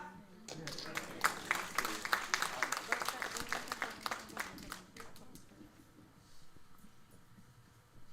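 An audience at a Maharshi Dayananda Gurukula Jag Day gathering applauds a performer named Kavita. Dense clapping swells over the first few seconds, then thins and fades out, with voices murmuring underneath.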